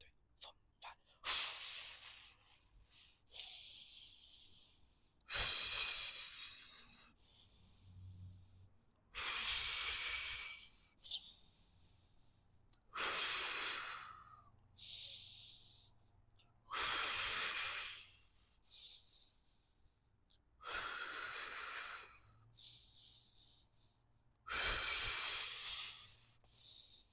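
Paced breathing during a beginner Pilates hundred exercise, with about eight loud, breathy exhales and inhales coming close to the mic in a steady rhythm, separated by short quiet gaps.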